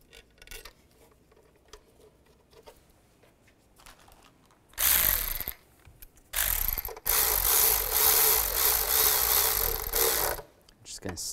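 Ratchet tightening the throttle body bolts on a 2005-2010 Chevrolet Cobalt: a few faint clicks first, then loud, close bursts of rapid ratcheting, one short and several longer runs, with brief pauses between them.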